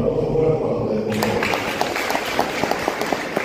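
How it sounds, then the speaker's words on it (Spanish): Audience applause in a historic hall during a cultural week for the Paraguayan poet Emiliano R. Fernández, starting under a brief spoken phrase and swelling into broad, sustained clapping from a crowd. "un aplauso fuerte para ustedes"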